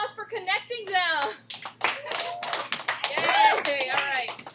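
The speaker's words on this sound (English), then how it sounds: "Round of applause. Applause for connecting them." Students in an algebra classroom clap briefly in scattered bursts, mixed with children talking and cheering over one another at close range.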